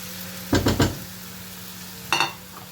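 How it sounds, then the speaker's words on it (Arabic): Chopped onion tipped into hot oil to sauté lightly gives a burst of three loud scraping, sizzling stirs, a quiet gap with a steady low hum, then another short stir near the end. "البصل اللي فرمناه هضيفه اشوحه بس تشويحه بسيطه"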